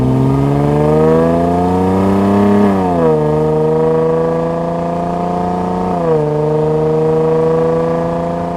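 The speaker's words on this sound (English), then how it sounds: "all I want to hear is this engine" A loud SUV engine, a Jaguar F-Pace or Porsche Macan, revving up and easing off in repeated swells, its pitch climbing then dropping twice, close and continuous with no talking.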